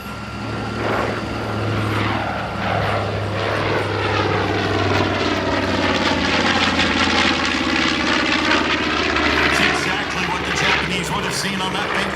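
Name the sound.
B-25 bomber Panchito engines flying past at air show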